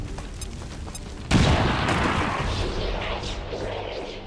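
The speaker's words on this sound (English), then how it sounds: "this grenade should take him out" An XCOM 2 grenade detonates with one sudden loud blast that rolls into a long rumbling, crackling decay, following a stretch of quieter game ambience.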